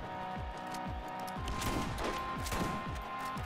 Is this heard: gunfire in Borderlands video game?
yes